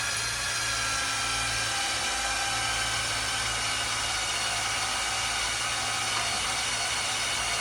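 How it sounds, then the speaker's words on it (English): A drill fitted with a small bit bores into the middle of a rivet head, a continuous close-up high-pitched whir with a faint low rumble beneath, running unbroken and without speech. "I'm gonna take my drill here. I got a real small bit, and I'm just going down."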